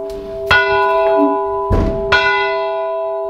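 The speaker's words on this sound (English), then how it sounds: "that is a bell. And they have the rope here to pull the bell." An old church bell in an abandoned woodland town, rung by pulling its rope, gives two loud, close strikes about a second apart, each leaving a long ringing hum that hangs on with a faint scrape between the strikes.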